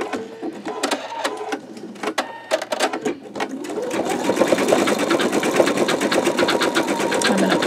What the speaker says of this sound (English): I'm going to go ahead and hit start. This one's going to take 3 minutes